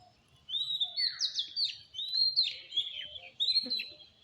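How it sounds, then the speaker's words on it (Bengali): Village birds sing steadily, overlapping high chirps and quick trills coming in bursts at moderate distance over a quiet outdoor background. "কি সুন্দর পাখি ডাকতেছে"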